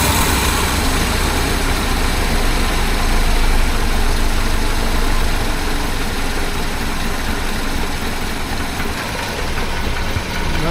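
A 1976 BMW 2002 engine with all four cylinders firing idles high and steady, a close, continuous rumble with no pauses and no voices.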